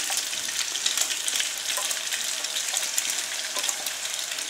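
Pasta with melted gorgonzola and zucchini being stirred in a pan over low heat, a steady close sizzle with faint scraping of the spoon throughout.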